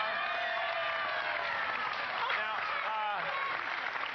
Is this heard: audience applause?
yes